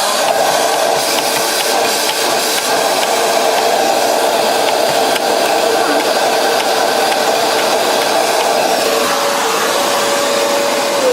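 A vacuum cleaner roars steadily and loudly while it sucks leftover grounds out of a Mazzer Mini coffee grinder, a constant whooshing drone throughout with a faint voice underneath.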